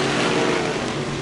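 Vintage race cars roar past on a racing track at a vintage car feature race, a loud, dense, continuous engine drone with no break across the short stretch.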